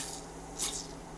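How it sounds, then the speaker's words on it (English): One short, soft hiss of foamy cleanser sprayed onto a dirty Grundig Yacht Boy 1100 radio, close by and quiet, over a faint low hum. "I'm just going to give it a little spray with"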